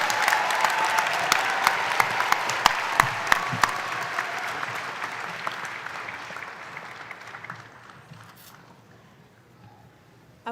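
An audience at a university fall commencement applauds graduating master's degree candidates, loud dense clapping at first that thins out and fades away over about ten seconds.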